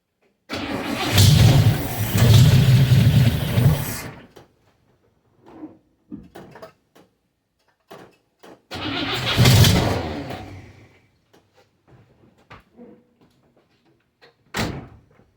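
A 1961 Cadillac engine cranks and starts cold in summer heat, with a loud rough roar for several seconds, then scattered clunks, then a second surging rev and a sharp final knock, all close by.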